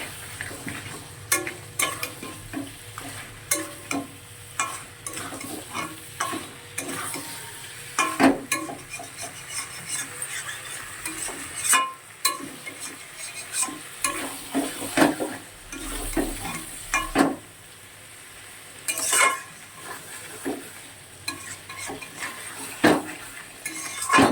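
Crab curry being stirred and sautéed in a pan, with repeated scraping and clinking of a metal spoon against the pan over a soft sizzle, in irregular bursts close by and with no talking.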